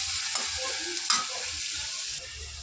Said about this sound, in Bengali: এবার এটাকে একটু ভালো করে ভাজা ভাজা করে নেব।